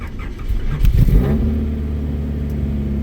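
An engine on a car whose key does not start it catches with a rough burst, then settles into a steady, rumbling idle.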